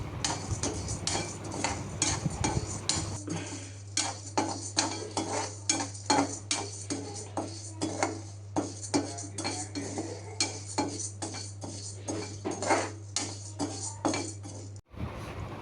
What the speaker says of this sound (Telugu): ముందుగా కందిపప్పుని డ్రై రోస్ట్ చేసుకుందాం.